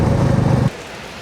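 Heavy rain pours down in a dense, loud roar during a motorcycle trip, then drops off abruptly to a much quieter hiss near the end.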